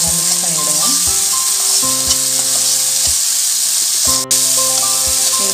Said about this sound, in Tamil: தக்காளி ஓரளவுக்கு வதங்க ஆரம்பிச்சிருக்கு. நல்லா மிக்ஸ் பண்ணி விடுங்க.